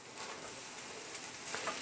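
Egg-coated bread fries in a pan with a soft, steady sizzle. The sound is faint and continuous, with no talking.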